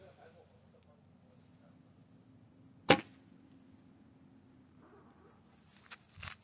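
A single sharp thunk of an arrow from a short recurve bow striking a target, at a middle distance against a quiet low background with faint rustling afterward.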